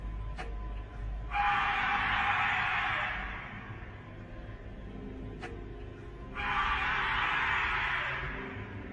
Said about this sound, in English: a really creepy scream grabs his attention